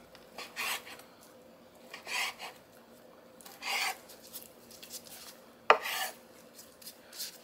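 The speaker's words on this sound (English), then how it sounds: "start cutting it into strips" Knife slicing thin steak into strips on a cutting board, about six separate rasping cuts in an uneven rhythm, close and fairly quiet, with a sharp knock near the end.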